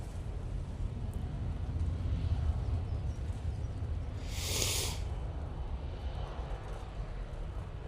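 A Ryanair airliner rumbles at Manchester Airport, a steady low distant engine roar holding throughout with a brief hissing rush midway; no voices.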